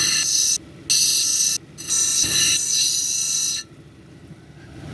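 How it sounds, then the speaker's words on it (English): A silicified sandstone cabochon is pressed against an 80 grit grinding wheel, producing a loud, harsh whine that cuts on and off in several bursts and then drops to a quieter running hum at the end. "So let's start grinding here."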